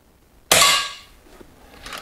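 A single sharp crack from a Weihrauch HW 100 S air rifle firing a lead-free pellet, close and loud, with a short ringing decay fading over about half a second in an otherwise quiet setting.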